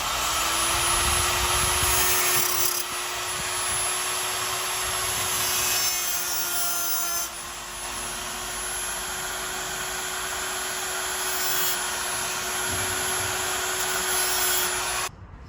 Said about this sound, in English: take a die grinder and just cut a slit in this rod so that this clip can really stay securely in there